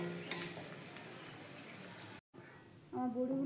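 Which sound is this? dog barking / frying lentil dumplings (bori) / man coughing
frying lentil dumplings (bori)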